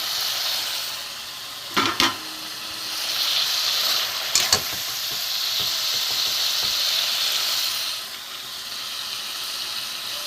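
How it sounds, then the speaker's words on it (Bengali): Tilapia fish curry bubbling and sizzling in oil in a pan, a steady close frying hiss that swells and fades, broken by a few sharp clinks of a utensil against the pan, with no talking. "একটু ফুটুক বন্ধুরা, তেলাপিয়া মাছে তেল ঝাল হয়ে গেছে।"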